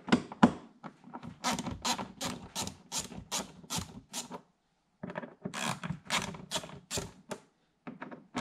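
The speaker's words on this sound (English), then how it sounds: "Now, I want to take these three screws out right here." Screws being backed out of a body panel on a C7 Corvette fitted with an aero kit, heard as quick runs of faint, dry clicking and ratcheting ticks in two bursts with a short silent pause between, no talk.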